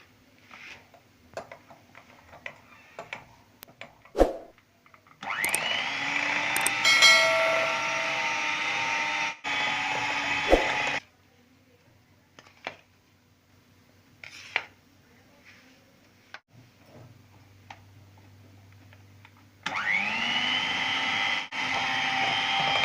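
An electric hand mixer beats caramel cake batter as dry ingredients go in, whirring loudly in two long bursts separated by quieter pauses with clinks and handling noise.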